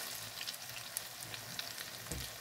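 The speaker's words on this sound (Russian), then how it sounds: "И обжариваем со второй стороны." Potato pancakes (draniki) fry in a pan with a continuous, fairly quiet crackling sizzle, dotted with small pops, and no speech.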